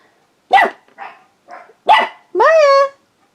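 A pet dog named Maya barks several times indoors, loud and close: three sharp barks with short gaps, then a longer drawn-out whining yelp to finish.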